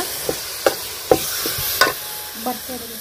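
Chicken keema is stirred in a pan while cooking, village style, with a spoon scraping and knocking in several short, close strokes over a soft sizzle.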